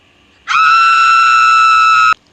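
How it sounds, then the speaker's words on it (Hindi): A cartoon character lets out a loud, sustained, shrill scream in a haunted house, starting abruptly, holding one steady pitch for about a second and a half, then cutting off sharply. "तो गुल्ली ये सब देख के बहुत तेज चिल्लाता है।"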